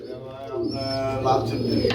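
Red Chulli breed pigeons coo with low, throaty repeated notes close by at a pigeon seller's, mixed with some background murmur.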